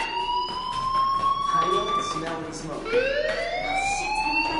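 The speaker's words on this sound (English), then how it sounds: "do you hear that fire alarm? That means you should be outside." A fire alarm rings in a PlayStation 4 video game, a steady electronic wailing tone that sweeps up and down through the clip, loud and continuous with no talk over it.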